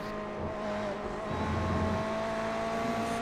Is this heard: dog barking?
no